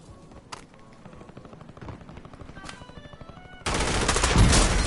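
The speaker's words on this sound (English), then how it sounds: "Taking effective fire." Call of Duty battle royale gunfire with a faint rhythmic patter early on, then a loud, sustained burst of close automatic fire taking over the final second.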